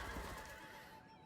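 A horse whinnies in a Total War battle game, a loud, shrill neigh with a wavering pitch that trails off after about a second, heard over battle noise.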